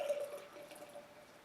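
Tree House Brewing 'I Have Promises To Keep' double IPA poured into a glass, producing a soft, steady trickle and fizz of liquid with no talking.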